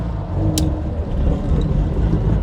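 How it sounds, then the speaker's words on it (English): A big lorry rumbles past close by on a road in Yorkshire, a loud, steady low engine drone with a brief sharp hiss partway through. "wait for this big lorry to go past"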